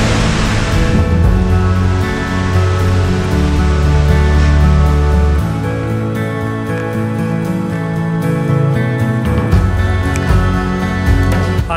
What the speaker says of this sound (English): This is probably your best bet of looking at this second waterfall.